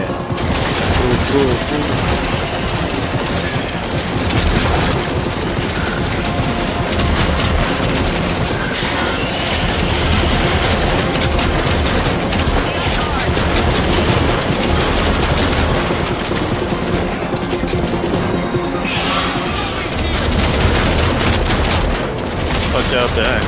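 Shotgun blasts in a VR zombie-killing game ring out in a dense, almost continuous barrage of loud gunfire, with people talking over the shooting throughout.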